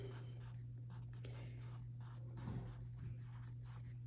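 Pen or marker scratching steadily on a surface while writing out a common denominator for a rational-expressions math problem, soft and continuous under a constant low electrical hum.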